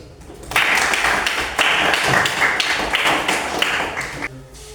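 A classroom audience gives a dense round of clapping lasting about four seconds, close and steady, with no speech over it.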